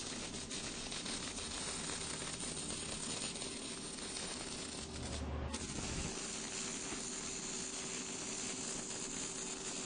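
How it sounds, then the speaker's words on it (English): Welding a trailer hitch receiver to its bar for a Club Car golf cart: a steady, faint crackling hiss runs almost unbroken, with one brief pause midway and no talk. "Now we welded the back side."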